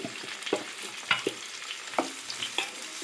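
Ginger-garlic paste and homemade shukto spice mix stirred in a hot pan, a soft sizzle under a run of light spatula scrapes and taps at an uneven rhythm.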